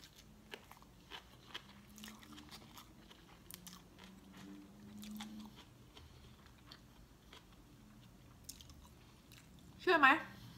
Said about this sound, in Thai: ก็เลยมานั่งกินเนี่ยก๋วยเตี๋ยวขยำเนี่ยแหละ